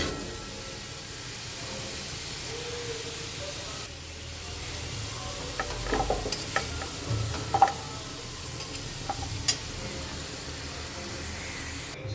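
Fried potatoes sizzling quietly in a pan, with a few scrapes and clinks in the latter half as they are stirred and lifted out.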